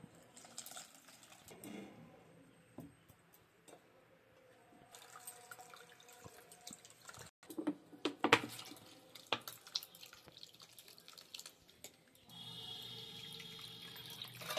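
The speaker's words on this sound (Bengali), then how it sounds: "ছানাটা আমি ঠান্ডা জল দিয়ে ছানাটা আমি ধুয়ে নেবো ভালো করে।" Cold tap water runs steadily over fresh chhana (cottage cheese) being rinsed by hand, with splashes and drips that come and go, close by and fairly quiet, with no talking.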